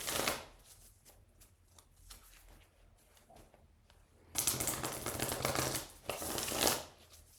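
Tarot cards being pulled and shuffled during a card reading, close and fairly quiet, with soft riffling and slapping at first, then louder bursts of rapid card shuffling toward the end.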